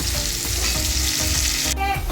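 Oil sizzles steadily in a pan while pointed gourd (potol) fries and is stirred, close and continuous, with a brighter crackle near the end.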